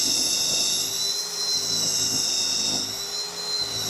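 A Ridgid R87012 subcompact cordless drill with a large bit bores through wood, giving a steady high-pitched whine that holds close and loud for several seconds with slight changes in load and no talk.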